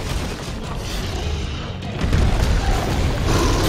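An explosion from the Raging Brachydios in Monster Hunter World Iceborne sounds as a dense, roaring, booming blast that swells louder partway through and stays heavy and continuous to the end.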